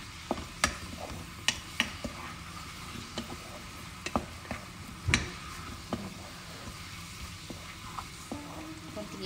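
Garlic frying quietly in a pan with a soft, low sizzle, broken by sharp clicks and scrapes of a utensil stirring at irregular intervals.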